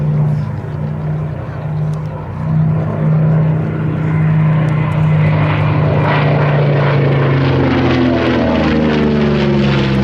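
A B-25 bomber propeller airplane roars past overhead at an air show, its loud, steady engine drone swelling and shifting in pitch as it passes.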